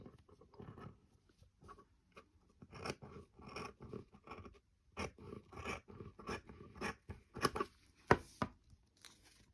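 Scissors cut through folded satin fabric, four layers thick, in a run of short crisp snips that come close together and grow louder toward the end.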